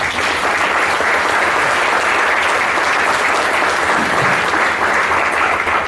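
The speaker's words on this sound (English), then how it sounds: "I ask you all to give yourselves an applause" A large audience applauds loudly and steadily, a dense wash of clapping that holds at full strength throughout, with no voices over it.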